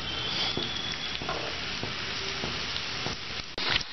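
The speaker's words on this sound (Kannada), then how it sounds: "ಎಣ್ಣೆ ಬಿಸಿ ಆದಾಗ ಈರುಳ್ಳಿ ಹಾಕ್ಕೊಳ್ಳಿ. ಈರುಳ್ಳಿ ಸ್ವಲ್ಪ ಸಾಫ್ಟ್ ಆಗಲಿ." Onions frying in hot oil for chana masala give a steady, close sizzle with soft crackle and a few brief stirring scrapes throughout, ending in a sharper burst of bright sizzle.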